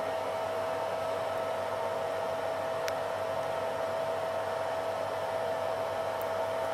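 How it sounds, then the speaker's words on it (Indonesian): A power supply cooling fan in a homemade mini air conditioner or fridge runs with a constant airy whoosh and a steady tonal hum, close and unchanging throughout, with no voices. "kipas power supply menyala lagi"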